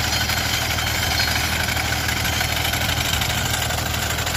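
A mini tractor's engine runs steadily near the listener while mowing hay in Tavildara, a rough, even rumbling idle with a mechanical buzz and rattling vibration that never lets up.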